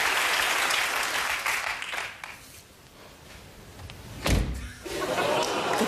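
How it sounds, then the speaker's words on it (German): A Porsche car door is shut firmly during winter storage preparation, a single solid thud coming after a stretch of broad noisy rustle, near and fairly loud. "Da gibt es extra Leute, die den Sound einer zufallenden Tür designen."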